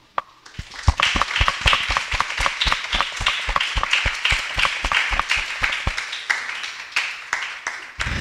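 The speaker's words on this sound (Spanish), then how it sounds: "por favor si le podemos dar un aplauso" A small audience claps for a speaker at the end of a talk on sexual politics. The claps are distinct and fairly close, starting sparse, quickly building into a rhythmic burst, and tapering slightly toward the end.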